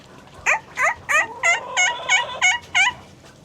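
A person imitates a turkey gobble with a rapid series of about nine close, loud, warbling yelps in an even rhythm on a homestead.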